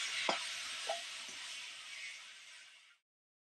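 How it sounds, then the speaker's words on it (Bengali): Fried onion is stirred with boiled eggplant, garlic and tomato in a pan, making a faint steady sizzle with a couple of light utensil clinks against the pan, cutting off abruptly after about three seconds. "দিয়ে কিছুক্ষণ ধরে আমি নাড়ি চাড়িয়ে নেব।"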